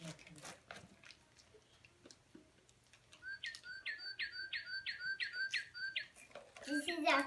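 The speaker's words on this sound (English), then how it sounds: "The bird sounds." Bird calls from two kinds of birds: a fast run of about eight bright, even chirps in a rhythmic series, with sharp scattered tweets before and after, fairly close over a quiet background.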